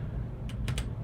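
Typing of an email and password on a computer keyboard, a few quick clustered keystrokes over a quiet background hum.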